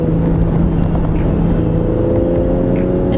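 Exhaust of a 2019 BMW X4 M40i in Sport mode, a loud, close engine rumble with rapid, irregular crackling pops scattered throughout.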